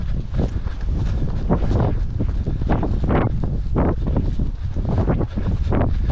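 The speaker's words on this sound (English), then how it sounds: "Running through the wind has been pretty tough, to be honest." Strong coastal wind during a long run buffets the microphone in loud, rough rushes that swell and fade in irregular gusts, roaring low and close with no voices.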